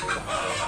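Breeder chickens cluck steadily at close range in a coop, a dense, continuous chorus of hen calls with a crow mixed in and no talk over it.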